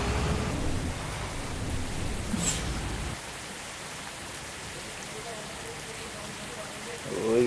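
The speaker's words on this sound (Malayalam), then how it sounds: "ഓ മഴയൊക്കെ തുടങ്ങിയപ്പോൾ" Rain falls heavily on the road outside a bus during a Kerala thunderstorm, a loud hiss that drops to a softer patter partway through and swells again at the end.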